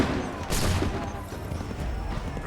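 A volley of musket fire in Assassin's Creed III, a burst of overlapping gunshots followed by rumbling, echoing reports.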